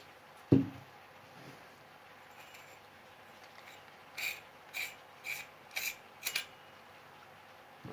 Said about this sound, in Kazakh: осылай қақпағын жабамыз